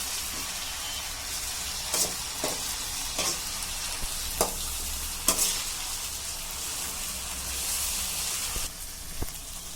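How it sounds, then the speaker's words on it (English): Ginger garlic paste fries in a pan for a vada curry, giving a steady close sizzle broken by occasional clicks and scrapes of stirring. "I'm putting in 2 teaspoons of ginger garlic paste. And that also I'm going to fry this"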